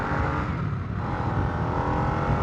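A 2022 Harley-Davidson Nightster with a 975 engine pulls hard under acceleration, a loud steady engine roar close by with rising intensity and wind noise throughout, no talk.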